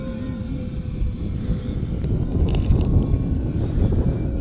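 An E-Flite Twin Otter RC airplane flies on its maiden flight, a steady electric motor whine rising and falling as it passes, with wind buffeting the microphone.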